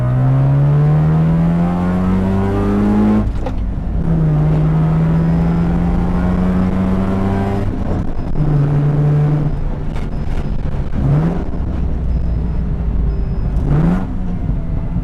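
A loud Mazda Miata engine revs up and down repeatedly, rising and falling in pitch, close and dominant throughout with brief gear-change breaks.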